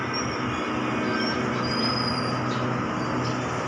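Express train standing at a station, a steady loud rail rumble with metallic wheel squeal and high screeching tones over it, no talking.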